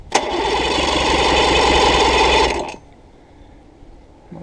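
A Mercury 50 hp outboard motor cranks and fires, running with a loud, buzzing mid-pitched drone for about two and a half seconds before cutting out to near quiet.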